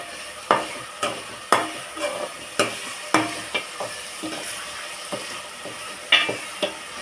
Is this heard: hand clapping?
no